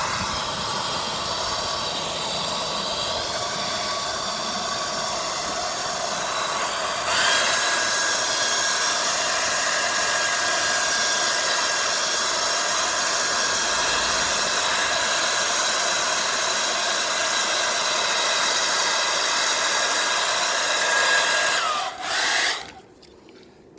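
A heat gun blows hot air over vinyl wrap on a car's front bumper, giving a steady loud whooshing hiss with a slight tonal whine for over twenty seconds before it cuts off near the end.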